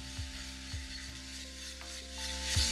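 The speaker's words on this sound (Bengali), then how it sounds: "সেটাতে আমি দিয়ে দিচ্ছি কুচনো কাঁচা লঙ্কা আর তারই সাথে আদা আর কাঁচা লঙ্কা বাটা" Chopped green chilli and ginger-green chilli paste fry quietly in oil for a mixed vegetable dish, a soft sizzle broken by a few spoon scrapes, with a low steady hum underneath and no talking.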